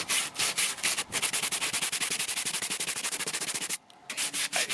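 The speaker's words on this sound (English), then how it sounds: "Now I get to see how this stuff sands." Hand sanding of Abatron wood epoxy filler on a wood siding repair with 100 grit sandpaper makes steady rapid back-and-forth scratching strokes, close and loud, with one brief pause.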